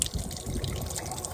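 Water runs from a faucet at a gas station, a continuous close trickle and splash with a low gurgling rumble and no talk.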